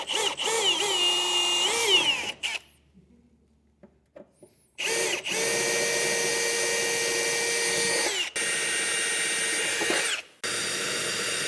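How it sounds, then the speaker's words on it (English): A power drill enlarges holes in the steel bed of a 2024 Ford F-250 Super Duty, whining loudly in several long bursts that are separated by short pauses and quiet gaps. "I am going to work my way up to it with some smaller drill bits"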